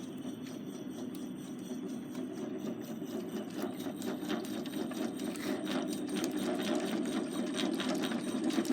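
A rounded cutter chattering while machining metal gives a steady, continuous buzzing vibration that carries a dense, fast rhythmic rattle and holds at an even level throughout.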